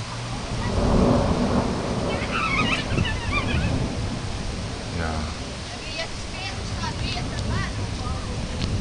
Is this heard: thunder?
yes